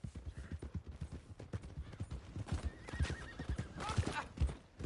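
In the video game Red Dead Redemption 2, hooves clip-clop in a steady rhythm as a horse whinnies partway through, close and clear.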